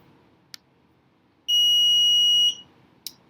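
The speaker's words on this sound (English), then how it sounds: "I'm going to test the buzzer." A steady electronic buzzer tone from a DragonBoard accelerometer project sounds alone for about one second, bracketed by two short clicks, over a quiet background.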